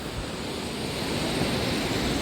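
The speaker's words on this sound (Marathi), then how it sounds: "समुद्र किनारा." Sea waves breaking on a Konkan beach near a harbour with moored boats at low tide, a broad continuous wash of surf mixed with wind rumble, steady and fairly loud with no voices.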